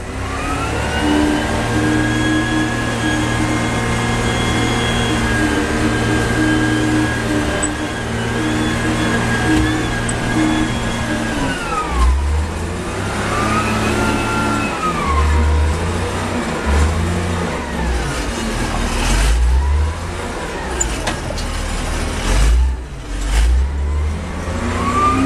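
A steady tractor engine drone runs close by while dumping and spreading dirt, then revs and shifts with rising and falling pitch as the tractor works nearby.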